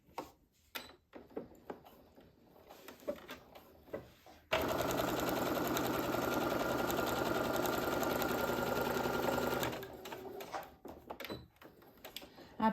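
A sewing machine runs in one steady burst of several seconds, topstitching a patchwork fabric pouch made from offcuts, loud and close, framed by quieter handling clicks and taps before and after.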